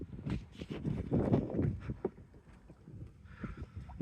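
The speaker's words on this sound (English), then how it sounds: "So we got the sails up and we're sailing" A sailboat moves under sail near Vancouver Island, with close, irregular water sloshing and lapping against the hull and some wind buffeting on the microphone; no one speaks.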